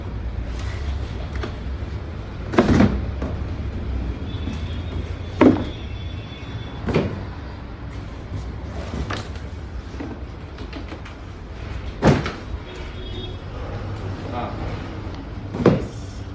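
Packaging for Mahindra Thar 2020 lift kit parts is handled and opened, giving intermittent crinkles, thumps and rustles at irregular intervals over a low background hum.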